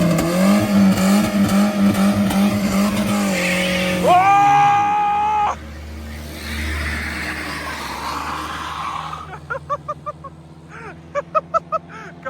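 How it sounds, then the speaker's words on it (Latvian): A Cadillac car drives past after a run of loud honk-like blasts, its low engine rumble passing close for a few seconds before giving way to short sharp knocks. "Kādilieks aizgāja garām."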